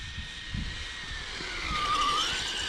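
Carisma Subaru brushless RC car with worn pinion gears running at a test session, a high whining motor that rises and sweeps in pitch as it passes, moderately loud with a rough gear noise beneath.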